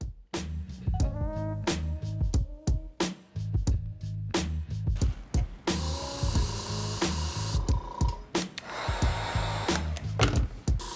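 Black spray paint is misted onto a custom Nike Dunk high sneaker in bursts of airy hissing, heaviest midway through, set against a steady, rhythmic music track.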